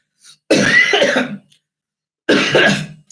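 Two harsh, chesty coughs from someone with bronchitis, close and loud, separated by a pause of about two seconds, with no other sound.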